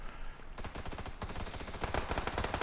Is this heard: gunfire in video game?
yes